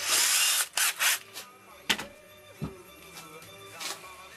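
Power drill boring into a wooden piece in a home workshop, a loud whirring burst at first, then short intermittent spins and clunks as the bit is worked in.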